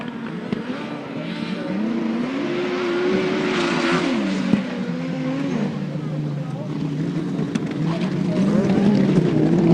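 Grasstrack racing motorcycles howl around on their final lap, engines rising and falling in pitch as they sweep through a turn, heard at a distance beneath a track announcer's commentary.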